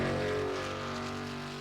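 NASCAR race car in the iRacing game at Rockingham, a steady low engine drone humming continuously and slowly fading slightly, a sustained mechanical tone with no speech over it.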